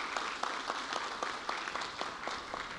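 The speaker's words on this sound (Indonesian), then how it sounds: "Ayo dong kita kasih tepuk tangan." Faint applause from an audience at a send-off ceremony for a news team, a soft continuous patter of many hands heard from a distance.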